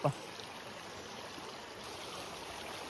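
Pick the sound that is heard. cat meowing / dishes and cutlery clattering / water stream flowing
water stream flowing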